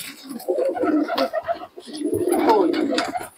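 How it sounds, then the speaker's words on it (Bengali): Pigeons coo repeatedly at close range in a pigeon market, their low throaty calls rising and falling in two bursts, with some background chatter and rustling around them. "দেখুন কবুতর দুটো দেখুন"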